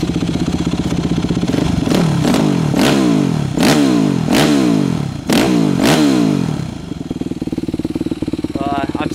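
A Yamaha YZ250 dirt bike engine idles loudly up close, then revs repeatedly in sharp bursts before settling back to a rough, steady idle.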